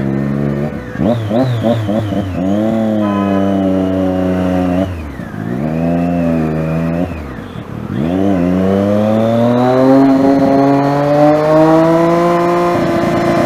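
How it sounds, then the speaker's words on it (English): Loud, close exhaust of a Triumph Daytona 675 motorcycle revving repeatedly, with rising and falling engine pitch through gear changes as it accelerates in heavy city traffic. "Let me see if my loud exhaust note clears out some traffic."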